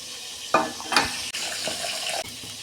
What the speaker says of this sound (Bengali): এই যে সবজিগুলো আমার সেদ্ধ হয়ে গেছে, ও অল্প একটু আর হবে, আমি ঢেলে ফেলছি।